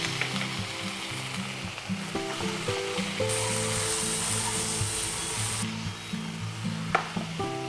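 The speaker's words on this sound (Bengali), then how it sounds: "আলুটা একটু ভাজা ভাজা হোক" Potatoes sizzle in a small amount of oil in a pan, a steady close crackle with occasional stirring scrapes, while a faint tonal hum runs beneath and no one speaks.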